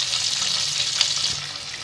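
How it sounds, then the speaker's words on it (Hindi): Two garlic cloves frying in a pan for a sauce, a steady close sizzle holding evenly throughout with a faint clink near the middle, no talking. "साथ में इसमें 2 जवे लहसुन के डाल दिए, उसको थोड़ा सा फ्राई कर ले रहा हूँ"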